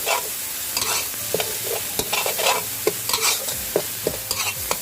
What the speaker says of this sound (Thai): ก็ให้ใส่พริกกระเทียมลงไปได้เลยค่ะ แล้วก็ทำการผัดพริกกระเทียมนะคะ